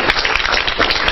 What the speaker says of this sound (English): let's all give Matt another round of applause